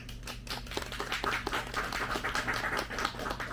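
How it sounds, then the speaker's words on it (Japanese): Applause from an audience at a Buddhist dharma talk, steady dense clapping throughout at moderate loudness, with no voices over it. "拍手。"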